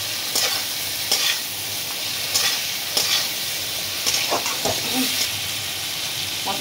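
Fried potatoes being stirred into spices in a pan while cooking Bengali muri ghonto with Gobindobhog rice and fish head: a steady sizzle and hiss under repeated scraping stirs, close and moderately loud.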